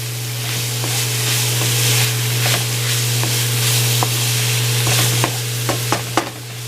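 Vegetables sizzle and hiss steadily in a hot pan for chicken fried rice, close and loud, with scattered clicks and scrapes of stirring over the continuous frying noise and a low steady hum beneath.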